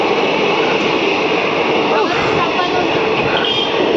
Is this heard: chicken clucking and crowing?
no